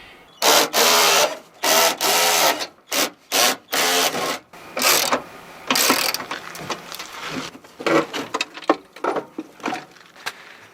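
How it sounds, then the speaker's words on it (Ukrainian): A bolt holding the headlight on a Dacia Logan being turned with a hand tool, a run of short rasping, ratcheting bursts close up, rapid at first and then more scattered. "Я кручу цей болт."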